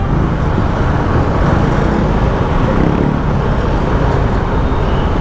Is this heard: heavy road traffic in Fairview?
yes